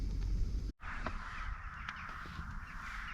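Crows caw over a lake, a large flock of about a thousand birds flying across, their calls blending into a steady, distant chorus over continuous outdoor rumble.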